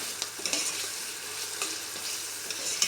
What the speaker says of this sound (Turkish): salçamızın kokusu gidene kadar salçamızı da kavuralım